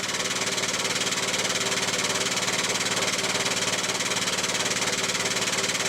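An 8-ton pneumatic-driven hydraulic ram, meant for a workshop crane, rises smoothly, with a steady, loud mechanical hum and a fast, even pulsing throb throughout.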